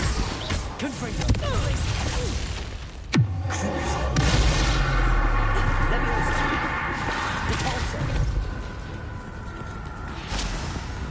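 Confringo fire spell blasts in Hogwarts Legacy, a sharp booming impact about a third of the way in followed by a sustained crackling rumble, with a voice talking over the game sound.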